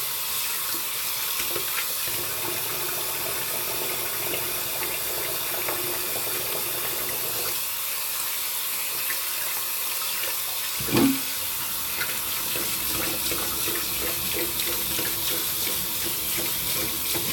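A bathroom tap runs steadily into a sink as someone rinses off after a wet shave, a constant close hiss of water with one brief splash or knock partway through and no talking.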